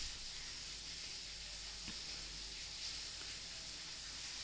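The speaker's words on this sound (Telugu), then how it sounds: "పన్నీర్ పీసెస్ని అన్నిటిని కూడా మనం ఫ్రై చేసుకోవాలి" Paneer pieces frying in a pan for a butter paneer cashew green peas curry, giving a steady, soft sizzling hiss throughout with no talking.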